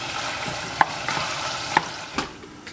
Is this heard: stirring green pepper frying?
yes